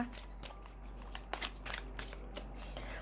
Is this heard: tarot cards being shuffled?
yes